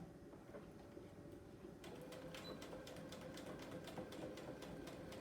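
A sewing machine runs a quarter-inch quilt seam with a quick backstitch, starting after a brief quiet lead-in and then rattling out a fast, even train of close stitching clicks.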